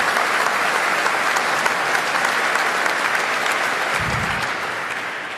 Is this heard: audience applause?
yes